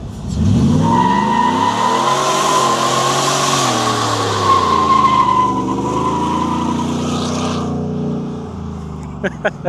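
A 700-horsepower shop truck in two-wheel drive launching hard, its engine roaring up through the revs while the tires spin and squeal for several seconds before the noise cuts off, with voices audible underneath.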